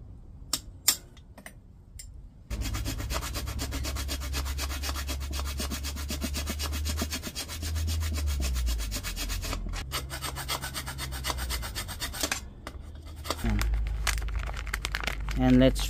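Steady rasping strokes of a hand file working a mountain bike part, close and continuous over several seconds, with a brief pause near the middle and quiet moments before and after.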